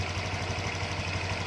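A Honda Vario 125 FI scooter engine idles steadily when warm, giving a low, even hum with a faint rhythmic pulse that stays constant throughout the short stretch.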